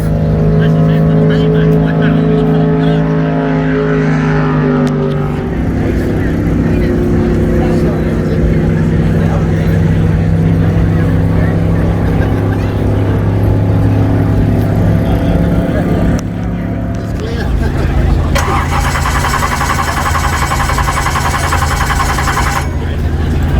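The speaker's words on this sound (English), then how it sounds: "355 cubic inch Dart racing block, alloy airflow heads. It's got a Holly 850 double pumper, 100 octane, triple plate clutch." A 355 cubic inch Dart racing block engine with alloy Airflow heads, a Holley 850 double-pumper carburetor and triple-plate clutch, running on 100 octane, rumbles loudly and steadily, with its pitch shifting as it revs throughout.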